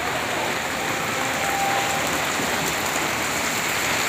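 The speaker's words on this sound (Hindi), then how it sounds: "इस बार लाहौर में तेज तरीन बारिश हो रही है" Steady, dense hiss of heavy rain pouring continuously in Lahore, loud and close, with no voices.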